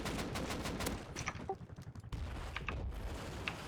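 Gunfire aimed at a helicopter in a video game, rapid bursts of automatic shots in quick clusters, fairly quiet overall with short gaps between volleys.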